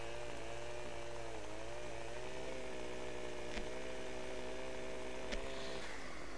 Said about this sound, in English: Go up with my chainsaw.